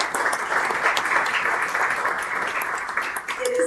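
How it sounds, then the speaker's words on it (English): Audience applause at an affordable housing ribbon cutting ceremony, a sustained wash of many hands clapping from a gathered crowd, even and continuous throughout with no voices on top. "Please join me in applause yet again to thank these friends and colleagues for their work"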